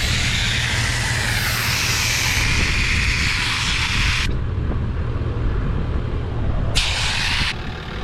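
Air rushing out of two tyres deflated together on a 4WD before a sandy beach track, a loud, steady broadband hiss that holds constant and cuts in and out near the end.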